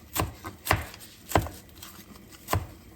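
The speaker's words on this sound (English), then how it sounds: "I'm just going to chop up some fresh parsley" A knife chops fresh parsley into rough chunks on a cutting board, five crisp, evenly spaced thuds at close range, with no voices.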